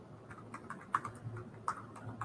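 Keystrokes tapping on a computer keyboard, a short run of light, irregular clicks with a couple of sharper hits, fairly quiet and close, no voices.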